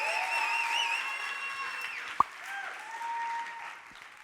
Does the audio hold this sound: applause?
yes